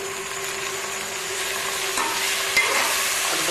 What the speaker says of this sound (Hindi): 2 मिनट के लिए भूनूंगी